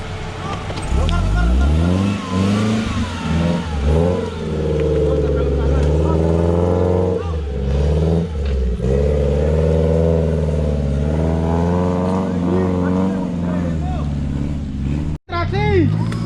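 An off-road car engine revs and labors hard along a forest trail, its pitch rising and falling in long surges, loud and near, with voices heard over it.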